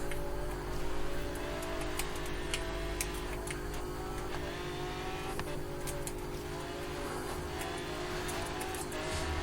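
A racing car in a video game drones at full throttle, a continuous steady engine tone with a faint tick, moderately quiet and unbroken for the whole stretch.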